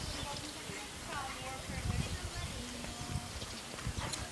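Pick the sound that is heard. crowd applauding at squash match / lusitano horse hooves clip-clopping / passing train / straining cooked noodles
lusitano horse hooves clip-clopping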